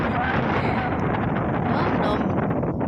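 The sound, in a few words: wind blowing in an open field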